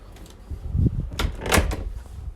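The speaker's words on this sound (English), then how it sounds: "Let me close this door." A door being shut indoors, heard as a couple of muffled knocks and a soft thud amid room rumble, fairly faint and brief, with no talking.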